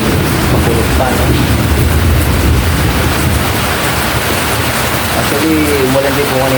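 Heavy tropical rain pours down as a loud, dense, continuous hiss and roar that fills the whole stretch, with a person talking over the downpour.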